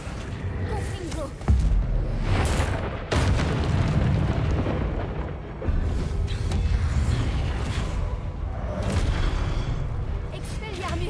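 Confringo fire-blast spells cast in the video game Hogwarts Legacy produce several loud, booming bursts amid a dense bed of game effects and score.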